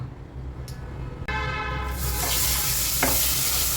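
Spices including turmeric, chili powder, coriander-cumin powder and garam masala mixed in a hot pan for a Maharashtrian dal-vegetable dish, a soft scrape giving way to a loud, sustained hiss of frying that fills the rest, close and without talk.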